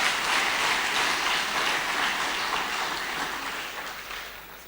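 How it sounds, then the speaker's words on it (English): Conference audience giving keynote speakers a hearty round of applause, a dense, steady wash of clapping that gradually tapers off over several seconds. "let us give a hearty clap to our 3 keynote speakers"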